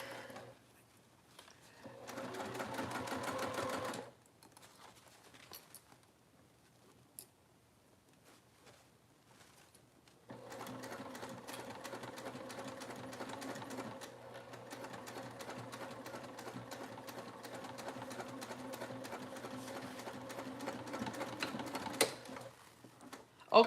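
A sewing machine runs in two stretches, a short burst and then a longer steady run of fast rhythmic needle clatter, with a quiet pause between.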